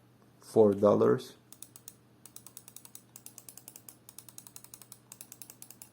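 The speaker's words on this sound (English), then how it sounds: "This is how a cheap wireless mouse sounds." A short burst of voice, then a steady run of light, crisp clicks from a cheap $4 wireless mouse, close and fairly regular, over a faint hum.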